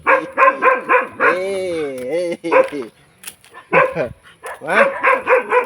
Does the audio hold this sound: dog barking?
yes